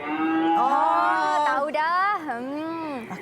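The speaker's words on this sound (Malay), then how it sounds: "Oh, ini bunyi lembu." A cow lets out a long, drawn-out moo that rises and falls in pitch, close and clear, with a speaking voice briefly present alongside it.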